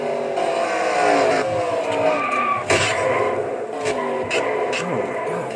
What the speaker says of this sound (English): And Cody Birmingham leading the race gets involved in this huge wreck